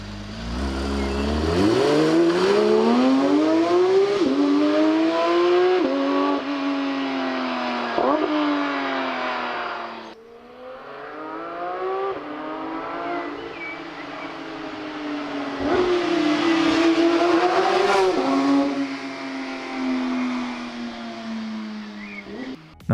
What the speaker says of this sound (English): Every gear, every corner is an excuse to hear that flat 6 sing.